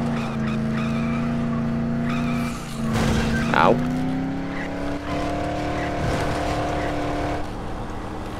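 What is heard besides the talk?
car driving in video game Dead Island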